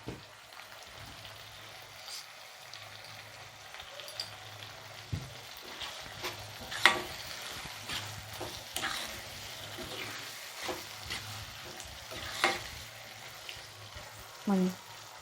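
Prawns sizzling in a pan as salt is added for a prawn thokku, a steady quiet crackle of frying with scattered louder pops and spoon scrapes throughout, close by.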